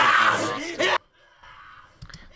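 Loud, dense screaming in a film sound mix, pushing near full level for about a second, then cutting abruptly to a quiet, low background with a faint brief thump near the end.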